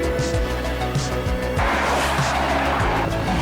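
A car passes by at close range, its engine note swelling and shifting over a few seconds with a faint tyre hiss.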